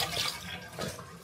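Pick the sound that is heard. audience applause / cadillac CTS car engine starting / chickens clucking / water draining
water draining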